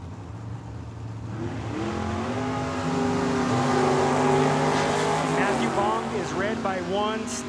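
A Ford Mustang and a 1967 Corvette running side by side at a drag strip, engines swelling from a distant drone into a loud rising roar with gear-change pitch sweeps, partly under an announcer's voice.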